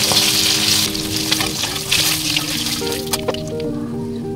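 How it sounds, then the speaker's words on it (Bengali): Whole spices (cardamom, cloves, cinnamon, mace, cumin) crackling in oil left from frying fish, a loud close sizzle with popping and some watery bubbling, a few soft clinks, no voices. "মাছ ভাজা তেলের মধ্যেই আমি ফোড়নটা দিয়ে দিচ্ছি।"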